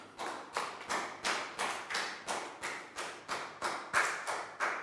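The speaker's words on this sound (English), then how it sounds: "Big round of applause for Net." A Year 3 maths class claps in unison for a classmate, about a dozen sharp, evenly spaced group claps in a steady rhythm, close and clear with no talking.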